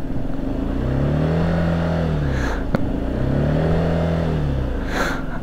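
A Yamaha Vino 50cc scooter engine revs twice while standing, each throttle blip rising and falling smoothly in pitch over a steady close idle hum.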